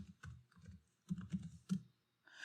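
A command is typed on a computer keyboard in an Ubuntu terminal, a few short clusters of quiet, close keystroke clicks separated by brief pauses.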